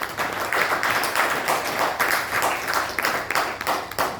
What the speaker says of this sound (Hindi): तो जितनी बार इनकम की बात आए तालियां बजनी चाहिए